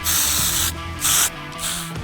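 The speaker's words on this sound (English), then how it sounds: "just a budget respray to clean it up" Paint hisses from a spray gun during a budget respray of a trailer, in three bursts: one long, then two shorter, over a steady background hum.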